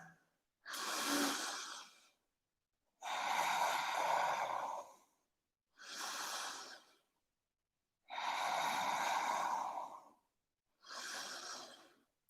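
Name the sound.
slow breathing during yoga posture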